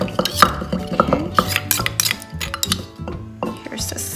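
Palm sugar syrup is stirred into a sauce in a bowl, with repeated clinks and scrapes of a spoon against the bowl at close range, and a voice talks over part of it.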